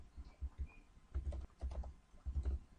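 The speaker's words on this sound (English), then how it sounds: "we will type localhost" Keys tapped on a computer keyboard to enter a web address, a few short bursts of clicks with brief pauses between, close and fairly quiet.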